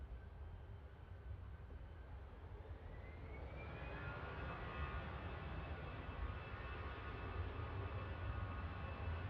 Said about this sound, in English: EasyJet, heading out to Mahon.